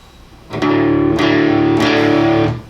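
An electric guitar runs through an Ibanez TS9 Tube Screamer pedal with the treble turned fully up, playing loud, overdriven sustained chords in three strummed hits, bright and hissy, ringing out before fading.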